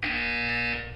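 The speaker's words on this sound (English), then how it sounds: "When you hear the buzzer, look down at the floor." A buzzer in the video game Portal 2 gives one loud, steady electronic drone that holds evenly for about a second and then fades at the end, heard alone with no talking.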